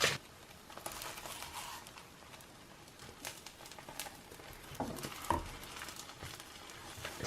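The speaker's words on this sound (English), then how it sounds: "I've got 2 omelettes in the pan now, and I'll just let them cook through on both sides" Two mushroom and cheese omelettes cook in a pan with a soft, steady sizzle and occasional faint crackles and clicks.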